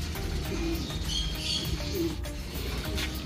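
Pigeons or doves coo softly and repeatedly while being fed high-protein pellets and mixed seeds, low calls over a busy background with light rustling.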